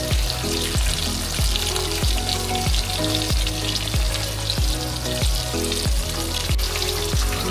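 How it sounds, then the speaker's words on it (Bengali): Vegetables with green chillies and nigella seeds are stirred in a kadai over raised heat. A loud, close sizzle runs throughout, cut by regular scraping strokes of the spatula about twice a second. "এটাকে নেড়ে চেড়ে ভেজে নিচ্ছি আঁচটা বাড়িয়ে।"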